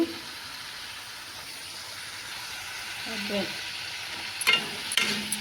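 Masala with tomatoes and vegetables fries in a pan, a steady low sizzle with occasional stirring scrapes and a couple of sharper clatters near the end.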